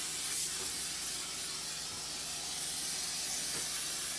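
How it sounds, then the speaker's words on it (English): Cooking spray hisses steadily from a can onto cake pans for a red velvet cake, a close, continuous spray lasting the whole stretch with no talk. "Spray your pans down."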